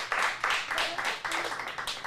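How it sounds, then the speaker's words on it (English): A room of children and adults at an acting studio lesson in a theater applaud for performers: a dense, steady wash of clapping over the whole two seconds, swelling in soft pulses, fairly close and continuous. "Give them one more round of applause."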